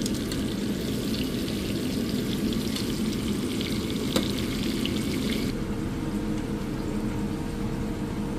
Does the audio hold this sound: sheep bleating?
no